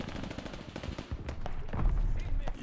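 Rapid gunfire bursts crack and rattle in Call of Duty: Vanguard, shots fired down from an upper window, several sharp close reports in quick succession amid busy game noise.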